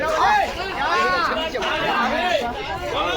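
Dense crowd chatter fills a busy vegetable market in Kawardha, Chhattisgarh, many overlapping voices close by and steady throughout, forming a loud continuous hubbub.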